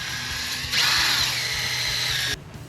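Power drill honing an engine cylinder on a Panhead motorcycle engine at about 600 RPM, a close steady high whine that starts abruptly, holds for under two seconds and cuts off.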